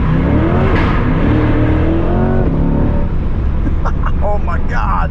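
A C8 Corvette's engine revs and climbs through rising pitch sweeps as it upshifts inside a tunnel, loud and close with a booming echo, then drops to a lower drone with voices talking over it.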